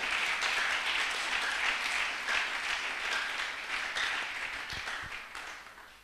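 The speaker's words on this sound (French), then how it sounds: "Si tu as compris, tu peux l'acclamer. Acclame-le beaucoup plus fort." A church congregation applauding and cheering in a sustained loud wash of clapping that holds for several seconds and then slowly tapers, with a couple of low thumps near the end.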